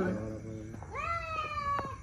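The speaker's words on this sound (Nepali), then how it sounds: "बिरालोहरू झगडा परेको अरे" Fighting cats yowl and wail in long, rising, drawn-out cries, loud and close, with a scuffling, squalling quality.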